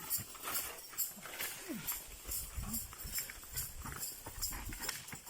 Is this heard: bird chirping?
no